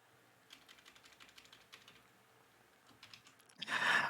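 Rapid clicking of typing on a computer keyboard while entering C++ code for a coffee kiosk program, close and steady in short bursts, ending in a louder burst of noise.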